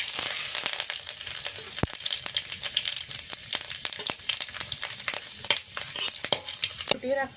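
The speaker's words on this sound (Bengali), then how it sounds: "কড়াইতে সর্ষের তেল দিয়ে দিয়েছি। ফোড়নে দেবো তেজপাতা, শুকনো লঙ্কা, পাঁচফোড়ন" Bay leaf, dried red chillies and five-spice sizzle and crackle steadily in hot mustard oil in a wok, a dense, close hiss broken by occasional sharper pops and scrapes.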